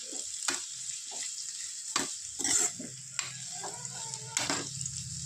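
Onions frying in a pan with a steady sizzle, punctuated by several sharp scraping stir strokes from a utensil, close and moderately loud, no talking.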